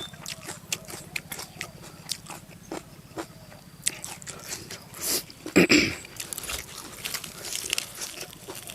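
Crisp raw vegetables crunched close to the mic, eaten alongside blanched intestines with a spicy dipping sauce; a steady run of sharp bites and chewing crunches with a brief burst of louder crackling near the middle.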